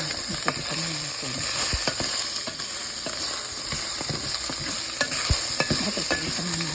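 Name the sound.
chicken pan-frying with garlic, ginger and onion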